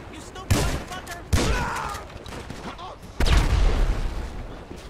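Gunfire in Grand Theft Auto V, several heavy booming shots spaced apart, loud and close, each trailing into a rumbling decay, with someone talking in between.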